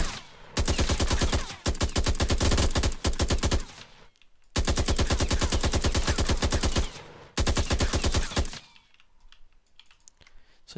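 Bursts of rapid automatic gunfire from an Unreal Engine 4 gun prototype, three long sustained volleys of evenly spaced sharp shots, each separated by a short silence, loud and close.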